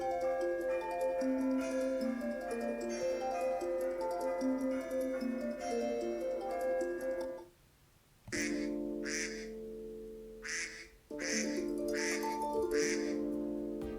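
Duck quack ringtone blended with a ticking clock and other tones, playing as a loud melodic phrase, then a brief gap followed by repeated quacking bursts in a steady rhythm.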